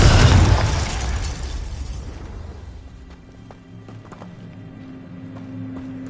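A Confringo spell explodes in Hogwarts Legacy, a loud close blast with a broad roar that slowly decays into a crackling tail, followed by quieter game ambience and faint ticking sounds.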